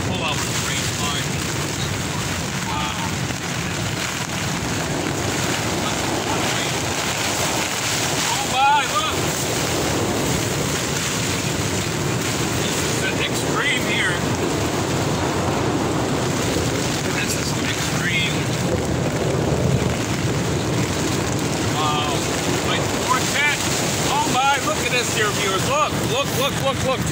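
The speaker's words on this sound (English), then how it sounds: "You hear the winds just howling out there." Severe thunderstorm wind roars steadily around a tent, a constant loud buffeting rush with gusting surges, heard up close with a voice talking over it.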